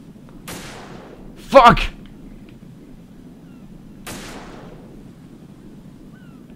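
Gunfire in the video game Metal Gear Solid 2 comes as a few sharp, fairly faint bursts spread apart, with a man's loud exclamation and low background game noise.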